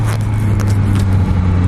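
A Honda CB650F motorcycle, restricted to A2 power, its four-cylinder engine held revving toward 7000 rpm, a loud steady drone with constant low hum and gritty mechanical texture, close and uninterrupted.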